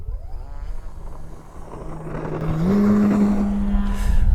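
A 63-inch Dynam Smoove balsa RC pattern plane with a Tomcat G60 engine takes off, its engine note rising into a loud steady high whine as it climbs away, with no talking.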